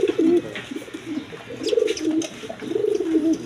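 Domestic pigeons in a pair for sale cooing near and loud in repeated low throbbing phrases, with light rustles and wing flutters between the calls.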